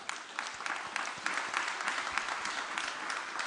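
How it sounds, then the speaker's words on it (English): Audience applauding the panelists at an EU-Moldova investment conference, a continuous, moderately quiet roar of clapping from a large room. "I think you will join me in applauding, our panelists"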